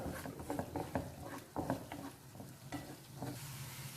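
A spoon stirs sauce for honey chicken in a pan with wet, soft scraping and light patter in an irregular close rhythm, along with a faint sizzle.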